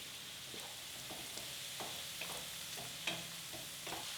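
Marinated mushrooms sizzle in a pan over medium-high heat for taco filling, a steady frying hiss broken by scattered soft clicks of stirring, fairly quiet and with no talk.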